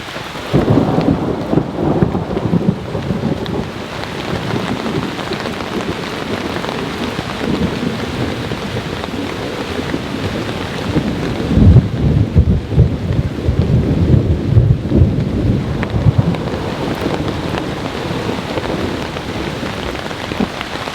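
Heavy, non-stop rain pours steadily around a campsite in Japan during a fierce thunderstorm, with rolling thunder rumbling repeatedly beneath the dense, hissing downpour.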